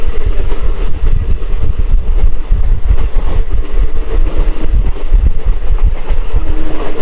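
A DEMU special train rolls steadily along the rails through open green rice fields, with a loud, continuous rumble and rhythmic wheel clatter that holds from start to finish.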